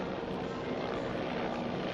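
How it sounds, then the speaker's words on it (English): Three Bell 412 combat utility helicopters of the Armed Forces of the Philippines fly over during an anniversary parade, a continuous loud rotor and engine roar holding steady throughout. "We now have the helicopters of the Armed Forces of the Philippines, led by the 3 Bell 412 Combat Utility Helicopters"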